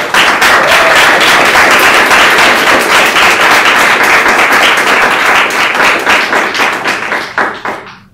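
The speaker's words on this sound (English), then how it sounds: "Give a round of applause" An audience at the University of Oregon applauds after a candidate's speech with dense, loud, sustained clapping that fills the space and then trails off at the end.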